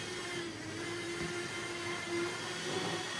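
Hornby Terrier model train locomotive runs on its track, a steady faint mechanical whir with a thin whine, continuous and quiet throughout without talk.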